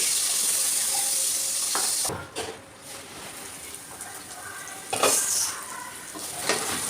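Two medium onions cut into large chunks cook in a pan for an egg masala curry, giving a steady hiss and sizzle with occasional louder stir bursts, close and alone.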